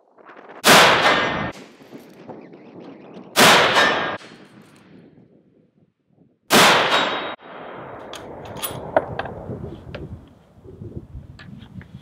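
A 30-06 rifle fires three loud, sharp shots at steel competition targets 100 yards downrange on an outdoor range, each followed by a ringing decay, spaced a few seconds apart with no talking.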